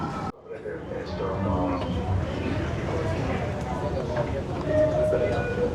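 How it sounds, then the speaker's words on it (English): A Yamanote line train at Shibuya Station in Tokyo gives a steady rumbling, rattling roar with a faint squeal, heard up close on the platform amid crowd noise and voices. "We're here at the Shibuya Station and we're getting on the Yamanote train."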